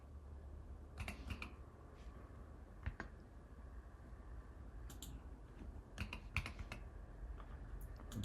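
Keystrokes on a computer keyboard, entering a rotate command in CAD software while modelling a custom millinery crown form, coming as a few quick clusters of soft clicks over a low room hum with no talking.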